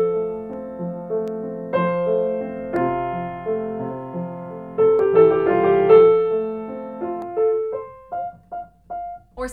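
A piano phrase builds in loudness to a rapid trill, then softens, ending with a few separated, quieter repeated notes.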